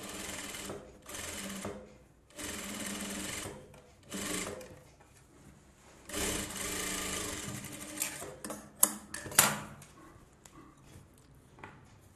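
An electric sewing machine runs in several short and longer bursts, close and clear with quiet pauses between, edge-stitching the lining of a close-neck blouse.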